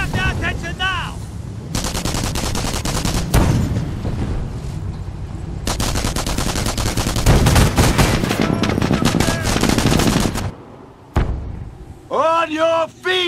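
An MG 42 machine gun crew firing in the WW2 strategy game Company of Heroes: long sustained automatic bursts, loud and near, broken by short pauses, with shouted voices heard before and after the firing.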